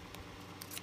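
Scissors make a few quiet, quick snips as they trim off craft material for a baby album embellishment. The cuts are faint, close and crisp, with no talk.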